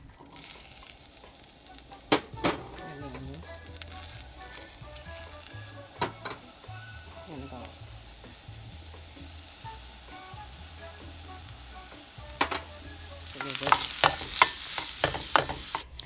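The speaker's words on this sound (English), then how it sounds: "I'm going to start off by sauteing the vegetables." Vegetables for a Cuban shrimp enchilado sauté in a pan, with a quiet steady sizzle and a few sharp utensil clicks and scrapes, and the frying swells louder near the end.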